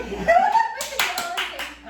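Hand claps made to sync a podcast recording: a short spoken count leads into several sharp, close claps in quick succession with a slightly uneven rhythm.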